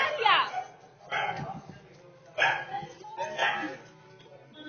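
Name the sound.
dog barking in a street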